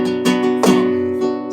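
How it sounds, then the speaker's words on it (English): A flamenco guitar plays a fandango de Huelva pattern with a five-stroke rasgueado, bright strummed chords ringing in a close, steady compás with sharp repeated attacks. "We're going to replace that with a 5-note rasgueado."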